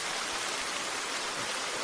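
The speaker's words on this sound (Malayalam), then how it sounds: "നല്ല നല്ല മഴയുണ്ട്." Heavy rain pours steadily in the horror video game Bathhouse, a dense, even hiss of downpour filling the whole clip with no pauses and no voices.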